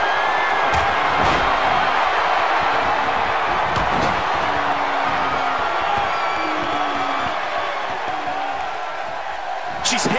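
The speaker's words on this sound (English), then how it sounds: "You can hear this crowd." A large WWE 2K17 video game crowd on PS3 roars and cheers continuously throughout a wrestling match, with brief sharp impacts and whoops breaking through the steady wall of noise.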